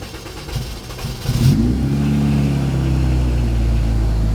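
A Honda Integra engine with VTEC and a K-tuned 3-inch exhaust rises from idle into a strong rev, then holds a deep, steady drone, close and loud with no talking over it.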